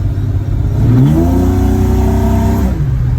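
Chrysler 245 Hemi engine fitted with triple Weber carburetors, heard from a Valiant on the road in second gear, holding a steady loud drone around 2000 RPM with a slight rise and dip in pitch, close and alone.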